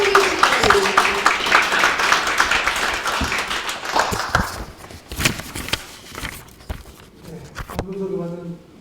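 An audience at a symposium applauds to welcome a speaker, a dense wash of clapping for several seconds that fades into scattered claps, footsteps and a voice at the end.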